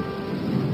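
A thunderstorm with rain gives a brief, loud, dense wash of pouring rain and a rumbling roar that fills the short moment without a pause.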